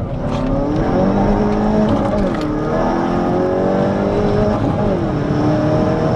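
A sports car engine roars continuously on a track, revving up and down through gear changes, loud and close throughout.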